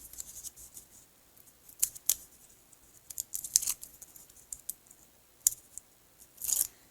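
Scissors snipping through cardstock for a shaped first birthday card, a series of close, crisp cuts in irregular bursts with short pauses between, ending in a longer slicing stroke.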